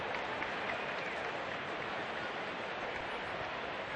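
Low, steady murmur of a large baseball crowd at Wrigley Field, a continuous distant wash of noise with no distinct cheers or talk.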